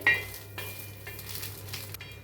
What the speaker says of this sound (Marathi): आपण मिरच्या पहिल्यांदा, आणि मिरच्या भाजून घेऊया, असंच भाजायचं आहे